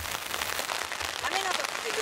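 Rain falls steadily on a golf course during a round, a constant soft hiss of drops on the ground, with faint voices underneath.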